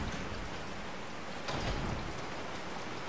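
Steady rain hisses without a break in the video game Resident Evil 4, a close, even downpour with a brief swell midway and no voices over it.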